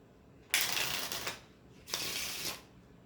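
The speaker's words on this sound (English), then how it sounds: "my spectator can take the deck and completely shuffle it" A deck of playing cards is riffle shuffled twice during a card trick, each a crisp close burst of fluttering, rapidly ticking cards lasting about a second, separated by a short pause, with no voices.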